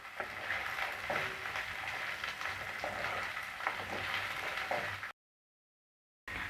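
Shallots and garlic sauté until golden in a pan on low flame for fish kulambu, giving a steady, soft sizzle with occasional stirring scrapes, then a sudden silence of about a second before the frying resumes.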